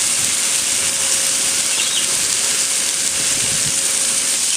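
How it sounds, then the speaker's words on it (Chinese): Salted pork belly sizzles on an iron griddle at an Australian barbecue, giving a steady, loud, close hiss of frying fat that continues throughout with no talk. "然后放在铁板上面让它煎。"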